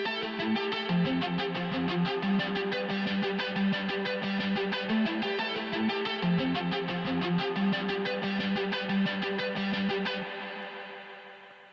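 A spliced, edited lead guitar in a metal arrangement, processed to mimic a synthesizer, plays a dense, steady run of fast notes for about ten seconds before fading out at the end.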